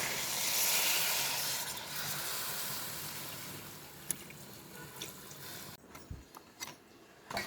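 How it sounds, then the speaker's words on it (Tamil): Rice-washing water is poured into a pot of crab curry, a steady close hissing pour that gradually tapers, followed by a few light splashes and clinks. "அந்த தண்ணி இதோ இந்த தண்ணி வச்சிருக்கேன் அந்த தண்ணி தான் ஊத்துறேன்"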